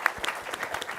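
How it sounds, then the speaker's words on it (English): Brief round of applause from a summit audience for panelists on stage, moderately quiet and roomy, with scattered individual claps standing out from a soft crowd wash. "One more round of applause for our wonderful panelists."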